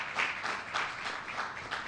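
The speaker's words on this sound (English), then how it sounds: "And I think you need to clap yourself." Applause from the audience at a member induction ceremony, a steady patter of many hands clapping in pulsing waves throughout, moderately distant with no voices over it.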